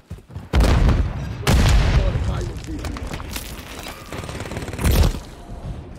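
Grenade explosions in Call of Duty Modern Warfare III multiplayer boom loudly three times, near the start, shortly after and near the end, over a steady bed of battle noise and gunfire.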